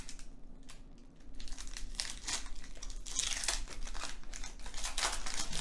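Plastic wrapper of a Pokémon Scarlet and Violet booster pack crinkles and tears open up close, a steady run of crackling rustles growing louder over several seconds.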